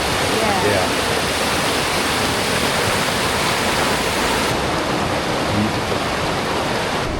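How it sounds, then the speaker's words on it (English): Water rushes steadily out of a pool in a mountain trout stream by a creekside campsite, a loud, continuous broadband roar like a small waterfall, close and unbroken throughout. "The water's shooting out?"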